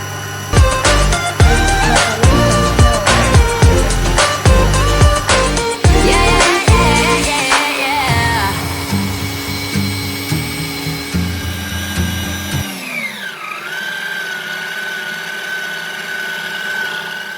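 A Karaca Mastermaid kitchen machine kneads dense çiğköfte mixture with a loud motor whine and rhythmic thumping that steadies, then winds down and stops, leaving a faint descending tone.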